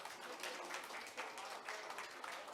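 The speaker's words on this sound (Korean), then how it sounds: "여러분 큰 박수 보내주십시오." An audience at a university leaders' forum on the future of cyber universities claps briefly, a soft, distant wash of applause with no talk over it.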